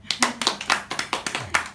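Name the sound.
clapping at 50th birthday celebration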